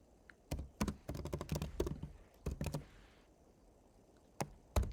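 Fingers type on a computer keyboard in quick, close bursts of sharp clicks with short pauses, then a few isolated keystrokes while editing code.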